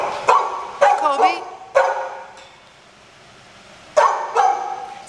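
Several dogs bark at an adoption shelter in repeated bursts of close, loud barks with short pauses between, including a yipping, whimpering edge, and a person talks over them.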